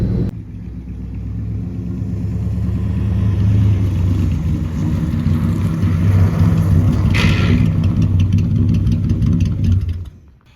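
A 1963 Chevy Nova engine drones steadily while driving, loud and close, with a rumbling low hum that swells slightly before cutting off at the end.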